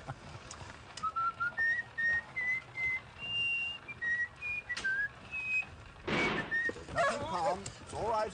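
A man whistles a wandering melodic tune in clear sustained notes for several seconds, in a period drama about Beethoven; other voices and brief noises follow near the end.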